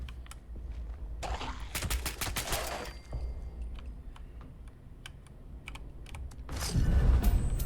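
Gunfire in Fallout 76, a rapid run of sharp shots in quick succession, then sparse scattered pops, then another loud burst at the end, with no talking.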